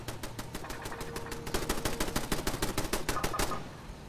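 Automated turrets in the video game Fallout 76 fire a rapid, steady stream of gunshots, a close, crisp machine-gun rattle that grows louder midway and stops abruptly near the end.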